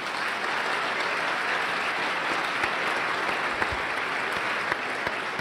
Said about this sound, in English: so you deserve the biggest round of applause